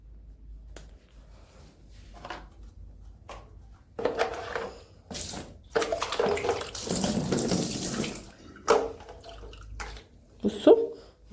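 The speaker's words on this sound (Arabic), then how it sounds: "كنت بكب الميه بس اللي هي في الكوبايه ديت" Water poured out of a glass into a kitchen sink makes a few seconds of splashing flow, followed by scattered drips and small clinks, fairly close and without talk.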